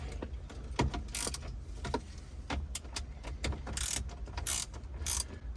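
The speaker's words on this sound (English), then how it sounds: "that's just a 7mm deep socket on a spark plug wrench" A ratcheting 7mm deep socket on a spark plug wrench clicks in quick, uneven runs while loosening the radio head unit bolts of a 2011–2018 Jeep Wrangler JK, with sharper metallic bursts mixed in, close up and without talk.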